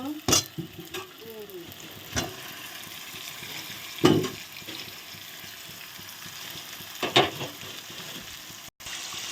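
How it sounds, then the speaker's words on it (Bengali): Chicken pieces sautéing slowly with fried onions in a pan for a chicken curry give a steady sizzle throughout, broken by a few sharp scrapes and clanks of stirring. "চিকেনটা আস্তে আস্তে কষানো হচ্ছে বন্ধুরা।"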